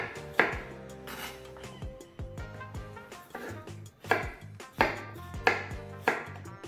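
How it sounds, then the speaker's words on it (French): A knife chops peeled potatoes into small pieces on a cutting board, giving a series of close, crisp thuds at an irregular, steady pace, with faint background music and no talking. "là on va les couper en petits morceaux"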